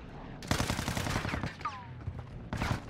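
Gunfire rattles in Warzone 2 as a rapid burst of shots, moderately loud, followed by a short pause and another quick burst near the end, with faint game sounds in between.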